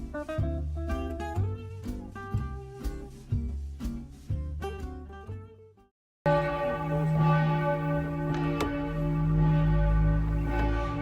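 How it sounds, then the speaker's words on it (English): Church bells at Saint Florin Cathedral in Vaduz, a neo-Gothic cathedral, ring out in a clear, rhythmic run of strikes. After a brief break comes a denser, sustained peal with long ringing tones. "As we entered, the bells rang with impeccable Pünktlichkeit, their echo not just marking the hour"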